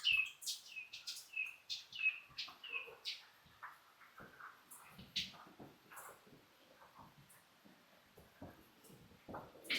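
Bright chirps and whistled phrases come from a yellow bird in a tree, sounding a little distant in a quiet outdoor setting, with a cluster of calls at the start and sparser tweets afterward.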